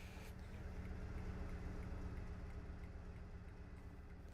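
A diesel train locomotive idles in Train Simulator on the South Wales Main Line, a steady low throbbing engine drone with a faint hum, constant and unbroken, with no voices.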